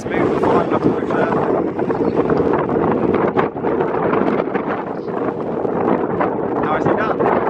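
Strong, gusty high winds at London Gatwick Airport roar and buffet the microphone continuously, a loud, close rumble with constant rushing texture throughout.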